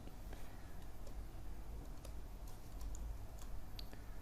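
Faint, scattered key clicks of typing on a computer keyboard, irregular and close, over a low steady background hum.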